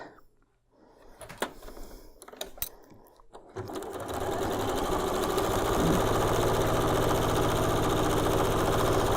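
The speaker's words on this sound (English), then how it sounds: "I'm going to go ahead and sew my 7 1/4 by 3 inch to one of the 4 sections that we created" A sewing machine runs steadily, joining a 7 1/4 by 3 inch strip to pieced sections of a big churn dash quilt block, with a few handling clicks and rustles first, then a continuous close motor whir.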